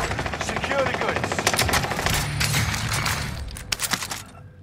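Video game combat with sustained machine-gun fire, a steady stream of close, sharp rapid shots running throughout, with a few heavier distinct bangs near the end before it drops off.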